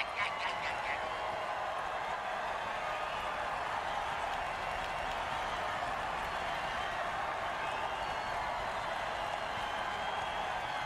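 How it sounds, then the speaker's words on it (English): Broad, steady crowd roar from a football video game, a dense wash of stadium cheering that holds at an even level for about eleven seconds with no talk over it. "Crowd's loving it."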